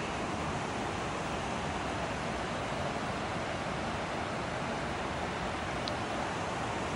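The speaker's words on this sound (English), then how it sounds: "And we got the river right there." Close by a backcountry campsite in Dolly Sods, West Virginia, a river flows with a steady, even rush of water that holds at a constant level throughout, with no voices.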